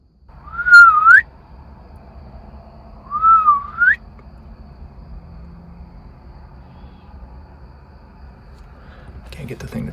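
A deer hunter in North Carolina whistles two short, rising, clear notes a couple of seconds apart at a small doe, against quiet outdoor background hum.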